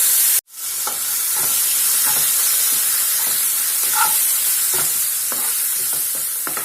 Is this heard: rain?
no